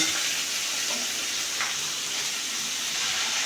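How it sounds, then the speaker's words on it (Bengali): Boro fish frying in hot oil produce a constant, even sizzle and hiss close up, with no pauses across the short stretch. "এখন মাছগুলি ভেজে নেব"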